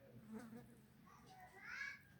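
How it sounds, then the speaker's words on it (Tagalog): Flies buzz faintly around a dish of kinilaw na dilis, raw anchovies, drifting close in soft whining passes. Quiet voices can be heard in the background. "Ah, langaw."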